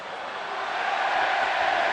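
A darts crowd at a 2017 UK Open quarter-final, Whitlock against Gurney, roars in a steady, swelling wash of cheering and noise that builds slightly louder over the moment.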